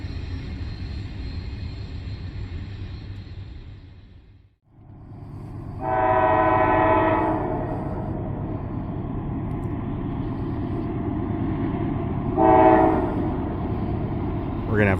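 An Amtrak train rumbles steadily past at close range, its horn sounding in two blasts, a longer one followed later by a shorter one, over a continuous low roar of wheels and engine.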